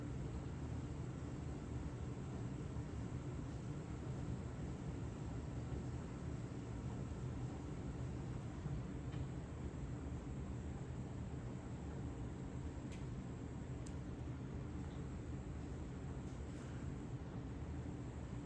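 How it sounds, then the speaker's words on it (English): A steady, broadband whooshing hum of a dishwasher running continuously in the background, with no talking. "sorry about the noise in the background,"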